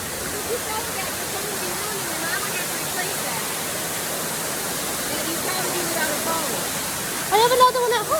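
A waterfall rushes with a constant broadband roar close by, filling the whole clip while people talk over it intermittently.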